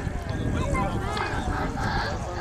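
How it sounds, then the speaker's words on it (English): Steady wind gusting around 20 roars and buffets across the microphone at an air show at RAF Cosford, a constant rushing noise outdoors with no pauses. "It's pretty windy down here at the moment, gusting some 20."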